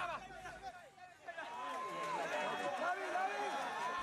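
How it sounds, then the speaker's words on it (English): A crowd runs and chatters toward the gate of Aung San Suu Kyi's house, busy footfalls under a babble of many voices that swells and stays dense. "The crowd fetched up at the gate to her house."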